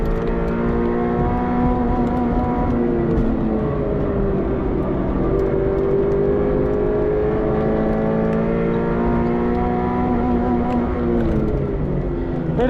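A Subaru BRZ engine on a race track winds up hard toward redline, its loud, sustained drone rising and falling in pitch through gear changes, close and continuous.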